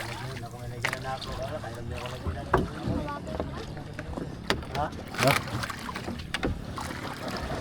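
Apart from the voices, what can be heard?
paddling a wooden boat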